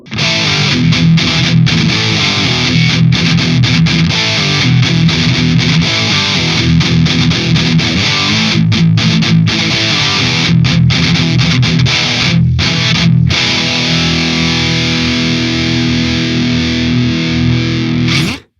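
Heavily distorted electric guitar in a tone from AmpliTube 5 and TONEX, playing thick, saturated chords continuously and loudly, with brief chugging breaks and a sustained ringing passage near the end.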